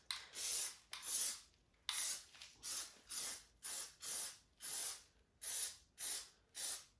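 Short bursts of Plasti Dip aerosol spray hiss across the wheels of a 5th-generation Camaro, about a dozen close, evenly paced spurts, each roughly half a second long, separated by brief quiet gaps.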